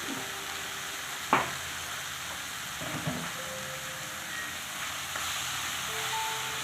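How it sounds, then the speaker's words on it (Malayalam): Pachadi curry with turmeric and chili powder is stirred in a pan, with a quiet steady sizzle, a sharp scrape of the spoon near the start and a few softer stirring scrapes afterward. "നന്നായിട്ടൊന്ന് ഇളക്കി കൊടുക്കാം"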